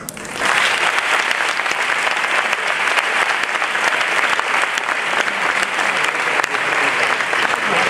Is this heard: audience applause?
yes